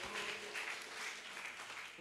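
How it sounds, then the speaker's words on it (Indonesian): A congregation applauds in church during an Indonesian revival service, giving a steady, fairly soft wash of clapping that holds evenly for two seconds, sounding somewhat distant. "Tepuk tangan bagi Tuhan Yesus Kristus."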